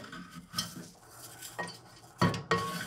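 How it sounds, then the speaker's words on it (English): A spoon stirring basmati rice and lemon zest in a metal pot on the heat, with irregular scraping and clinking, two louder knocks near the end, and a soft sizzle beneath. "And you're just gonna stir everything in."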